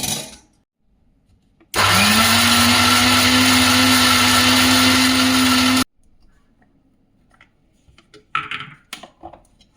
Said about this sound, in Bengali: দিয়ে এবার এটাকে মিক্সিতে পিষে নেব।